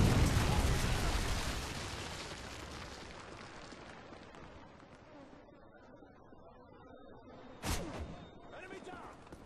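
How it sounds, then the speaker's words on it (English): A Predator missile explodes on the Seatown map in Call of Duty, a loud roaring blast that rumbles and fades slowly, with a sharp crack of gunfire close to the end. "Predator missile inbound."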